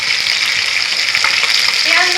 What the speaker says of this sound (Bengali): দেখুন মাছ ভাজা হয়ে এসছে